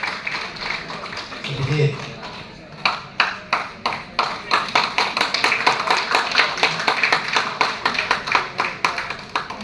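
An audience at a health product testimonial event in a Yogyakarta hotel applauds after a presentation, a steady run of quick, sharp claps building into sustained rhythmic clapping after a brief spoken word.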